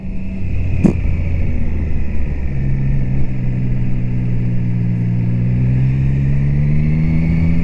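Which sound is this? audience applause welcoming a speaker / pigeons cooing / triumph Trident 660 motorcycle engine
triumph Trident 660 motorcycle engine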